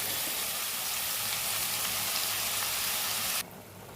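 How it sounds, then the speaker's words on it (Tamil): Chopped mushrooms sauté in about three teaspoons of oil in a kadai, a loud, steady hiss and sizzle that cuts to a quieter level near the end. "இன்னொரு கடாயில் ஒரு 3 டீஸ்பூன் எண்ணெய் ஊற்றி இதில் நம்ம நறுக்கி வச்சுருக்கிற காளான் மஷ்ரூமை இதில் போட்டு நம்ம நல்லா வதக்கி"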